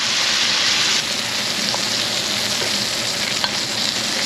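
Wagyu steak sizzles hard in a cast iron pan with butter, a loud, steady, close frying hiss with a brief clunk or two as it's basted and flipped.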